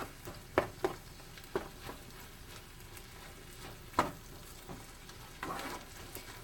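Corn being stirred in a pot, producing a few scattered scraping knocks and soft sizzling over a quiet, steady background, with no talking.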